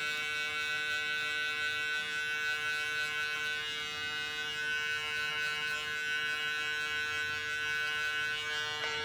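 Electric hair clippers fitted with a 0.5 guard cutting a man's hair, a steady close buzzing hum with tonal whine that runs continuously and unbroken throughout.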